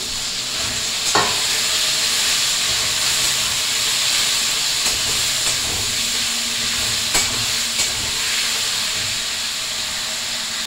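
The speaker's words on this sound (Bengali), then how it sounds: "দেখো আমি লোটে মাছটা এখন আমি দিয়ে দেবো, দিয়ে নাড়াচাড়া করবো।" Bombay duck fish sizzling and hissing steadily in a hot pan with onion and tomato, with a few sharp clinks of a spatula stirring it, close and continuous with no talk.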